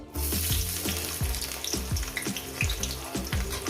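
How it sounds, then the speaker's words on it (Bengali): Chopped onion dropped into hot oil in a wok crackles in a loud, steady hiss, with regular scraping strokes of a spatula pulsing under the sizzle throughout. "পেঁয়াজ কুচোটাকে দিয়ে একটু লাল লাল করে এক দু মিনিট আমি ভেজে নেব"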